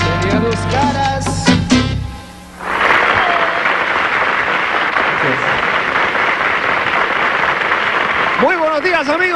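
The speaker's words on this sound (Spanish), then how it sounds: "Fuerte aplauso para esta joven agrupación" An audience bursts into applause for the band Dos Caras at a TV variety show, a loud sustained wash of clapping that follows a short burst of music and ends as a voice comes in.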